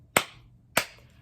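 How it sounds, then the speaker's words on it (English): Two sharp, evenly spaced hand claps at a children's storytime during the Bingo song, close and clear with nothing else between them. "now we're going to take out the B and the I and do 2 claps"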